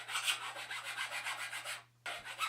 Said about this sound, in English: I'll use a little fine sandpaper on the top